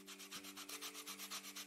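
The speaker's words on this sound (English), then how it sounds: "It's a quick sanding." Sanding a toy in the Toy Tinker Simulator video game, a quick run of rhythmic back-and-forth rubbing strokes, about a dozen in under two seconds, steady and fairly quiet with no speech.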